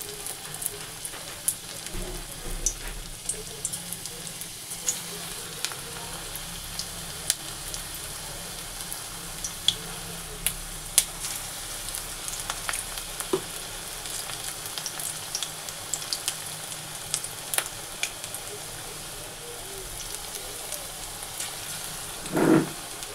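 Gram-flour fritters mixed with onion, coriander and green chilli frying in a pan, a long, even crackling sizzle with scattered small pops, with no talking.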